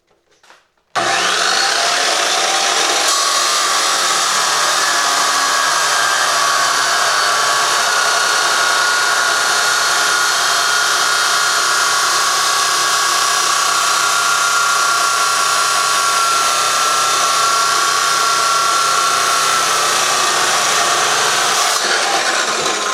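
A chop saw cuts through a clamped metal part for a snowblower stand, a loud, steady, continuous grinding whine that holds for about twenty seconds before stopping, with no talk over it.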